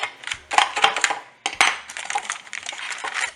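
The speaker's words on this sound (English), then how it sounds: "I baked it, and now I'm going to just cut it so that I can serve it to her." A knife cutting through a baked sweet potato on a plate, with close, busy clicks, scrapes and taps of the blade in two quick bursts separated by a short pause.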